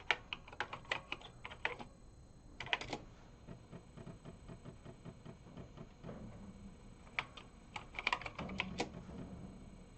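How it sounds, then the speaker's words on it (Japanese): Keys clatter on a Panasonic MSX2+ FS-A1WX home computer keyboard, quiet and close, in bursts of quick clicks with short pauses between them. "WX のキーボードの方が打ち心地がいいですね。"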